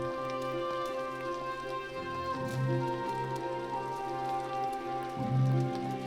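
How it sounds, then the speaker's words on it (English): Rain falling in a boreal forest in northern Finland during June, a steady, close pattering of drops on the forest floor and leaves that runs throughout without a break and carries no voices. "precipitation now falls as rain"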